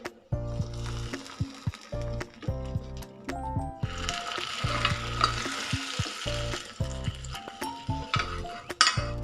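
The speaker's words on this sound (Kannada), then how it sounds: "ನೋಡಿ, ಈ ಒಗ್ಗರಣೆ ನಾವೀಗ ಈ ಸಾಂಬಾರಲ್ಲಿ ಸೇರಿಸೋಣ" Spice tempering (oggarane) is stirred into holige sambar, giving close, loud sizzling and bubbling with repeated clinks of a ladle against the pot, intermittent bursts of frying over a steady simmer.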